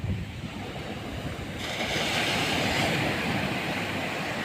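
Sea waves washing up onto a sandy beach lined with pine and tropical almond trees, the surf rising high toward the shore; a steady, loud wash of surf swells a little louder partway through, with no voices.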